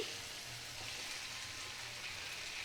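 Chopped bottle gourd pieces tipped into a hot pan of spices fried with red chili powder, giving a steady, close frying sizzle with soft crackle throughout and no talking.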